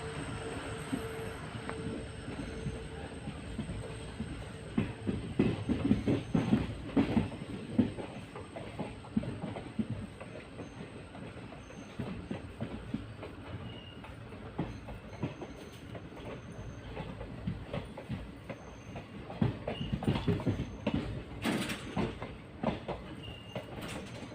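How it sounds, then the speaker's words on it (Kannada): The Vasco da Gama–Yesvantpur Goa train pulls out of Birur Junction toward Bengaluru, its wheels beating a steady clickety-clack with occasional squeals, moderately distant and rising and falling over a long stretch without voices. "ಬೆಂಗಳೂರು ಕಡೆಗೆ ಒಂದು ಟ್ರೈನ್ ಹೊರಟಿದೆ ಬೀರೂರು ಜಂಕ್ಷನಲ್ಲಿ"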